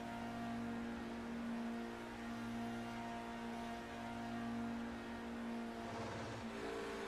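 A touring car engine at Thruxton, heard onboard at the race start, gives a faint, steady droning hum with sustained tones that shift slightly near the end, and no voices.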